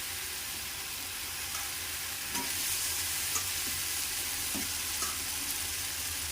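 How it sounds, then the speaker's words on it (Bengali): Fried potatoes being stirred into a spice masala in a pan, a steady soft sizzle with occasional scraping and tapping of the spoon, close and even throughout. "আলুগুলো দিয়ে মশলার সাথে আলুগুলোকে ভালো করে মিশিয়ে নিচ্ছি"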